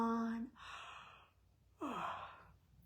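A person gives two long, breathy yawns, each starting with a voiced, falling groan and trailing into exhaled air, separated by a short pause.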